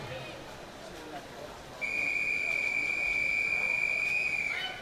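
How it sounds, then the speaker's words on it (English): A single long, shrill whistle blast sounds at a swimming meet to signal the last 50 metres to a swimmer, held steady for about three seconds over a constant pool-hall murmur. "the whistle indicates the last 50 metres for the swimmer"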